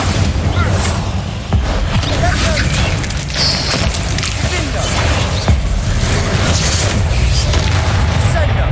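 Bombarda blasting spell in Hogwarts Legacy, dense rumbling booms and crashes layered over constant game noise, with several heavy low impacts standing out across the stretch, loud and close.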